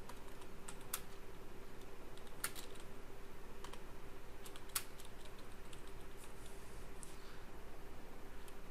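Keys clack on a computer keyboard as text is typed into an MS Word document, a steady patter of soft close taps with a few louder strikes, alone over a faint hum.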